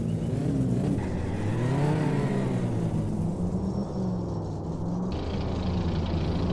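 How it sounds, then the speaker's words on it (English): A car in My Summer Car doing a burnout to warm its tires before a drag race, the engine revving loud and sustained with rising and falling pitch under a constant rumble, close and without voices. "Can we do a little burnout here to warm up the tires?"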